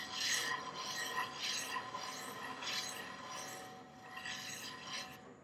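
A slow sharpening blade turning at about 35 RPM rubs against a V gouge, a soft rasping scrape that swells and fades in repeated strokes, close and fairly quiet, with no talk.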